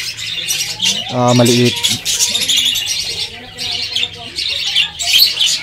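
Lutino and Spangle parakeets in a breeding cage give bright, busy chirps and twitters, with someone speaking over the birds close by.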